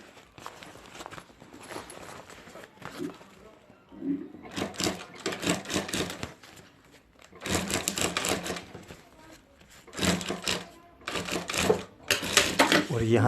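A sewing machine stitches a border onto a homemade handbag in several short bursts of whirring, separated by pauses and low background activity.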